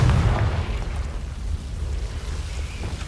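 A Confringo fire spell exploding in the video game Hogwarts Legacy, a single deep muffled boom at the start that decays into a low rumbling roar, with no voices over it.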